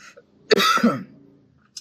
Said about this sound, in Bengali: ঠান্ডা গরমে কাশি হচ্ছে